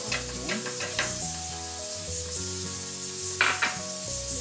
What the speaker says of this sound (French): Pour la béchamel, mettre le beurre dans la casserole de marmite. Ajouter la farine petit à petit, le temps que le beurre monte.